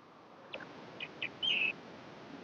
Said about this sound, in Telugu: నా వీడియోలో కూడా మీకు బ్యాక్గ్రౌండ్ కింద పిట్టల కూతలు అవి వినిపిస్తూనే ఉంటాయి